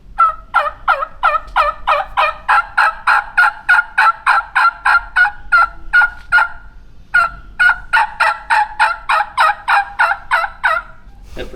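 A live wild turkey hen gives a long run of honky, nasal yelps, loud and close, in steady rhythmic bursts, pausing briefly midway before a second series.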